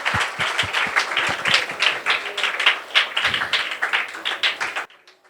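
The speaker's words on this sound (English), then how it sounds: "Let's get up and clap" A seminar audience stands and claps in quick, uneven, fairly close strikes that carry for nearly five seconds and then stop abruptly, leaving near silence.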